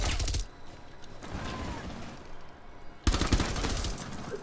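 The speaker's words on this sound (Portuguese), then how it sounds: "Comecei a atirar antes da Twitch." Rapid automatic gunfire from a Rainbow Six Siege match crackles in two loud bursts, one at the start and a heavier one near the end, with quieter mechanical clatter and scattered shots between.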